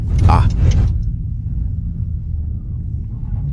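A Dodge Hellcat fitted with horse-and-buggy wheels rolls over a bumpy, potholed patch, giving a steady low rumble throughout, with a voice speaking briefly at the start.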